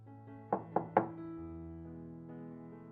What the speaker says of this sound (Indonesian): suara ketukan yang cukup kencang